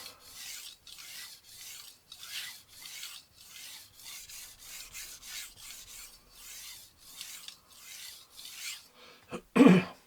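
Repeated rasping strokes of a Wusthof kitchen knife drawn across a VENEV diamond sharpening stone, steady and even in rhythm, close up, followed by a brief louder knock at the end.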